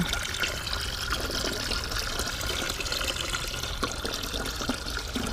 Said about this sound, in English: See how that's draining out there nicely?